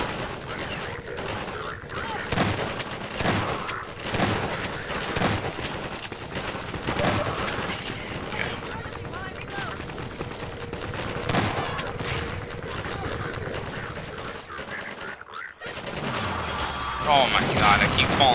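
Rapid gunfire and blasts from grenade explosions in the Half-Life 2 video game, a dense, continuous barrage of sharp shots and booms lasting throughout, with a voice under the combat noise.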